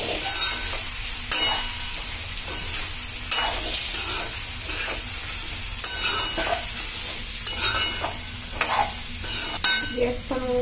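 Garlic and curry leaves crackle in hot oil before bottle gourd goes in. A close, steady sizzle is broken by repeated scraping stirs at irregular intervals, with no one talking.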